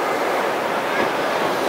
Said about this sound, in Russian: О, какие волны. Шикарно.